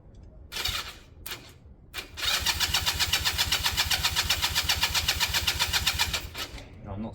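A Chinese 250cc motorcycle engine cranks with a fast, even rhythmic chug for several seconds without catching, preceded by a few short bursts of cranking.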